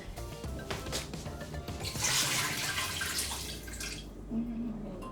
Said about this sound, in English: Now I'm adding the water to the chicken.